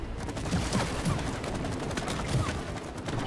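Dense, continuous bursts of gunfire in It Takes Two, a busy rattle of rapid shots sustained at even loudness throughout the short stretch.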